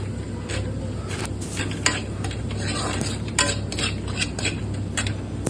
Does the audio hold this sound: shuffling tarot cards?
no